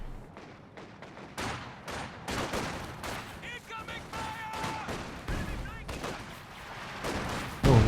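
An SU-26 artillery barrage in Company of Heroes 2 pounds away as a rapid string of sharp blasts and gunfire, fairly close and steady, ending with a heavier thump.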